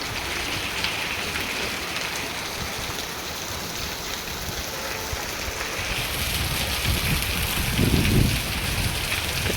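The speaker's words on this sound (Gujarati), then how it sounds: "જો અત્યારે વરસાદ આવી ગયો છે અહીંયા શિહોરમાં" Steady rain falling on an outdoor surface in Sihor, a dense, continuous hiss that swells slightly toward the end, with no talking.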